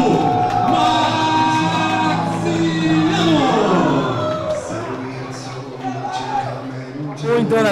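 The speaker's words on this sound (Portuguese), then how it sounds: "recebendo aplausos e gritos" An arena crowd at a fight event cheers, whistles and shouts while a boxer walks in, a dense roar running throughout with an announcer talking over it.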